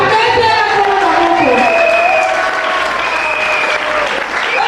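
A church congregation bursts into loud, sustained applause mixed with crowd noise and some cheering, while a preacher's voice carries over the clapping in a bright, sung tone.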